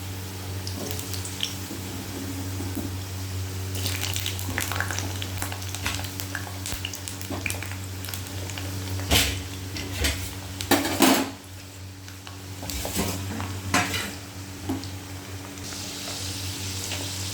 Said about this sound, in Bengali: তেলটা গরম হয়ে গেছে, এবার আগে আলুগুলো ভেজে নেব।